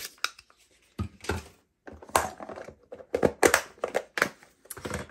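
A small, cute paper label punch presses out a label with a run of crisp, close clunks and crunches, some in quick clusters and others separated by short pauses.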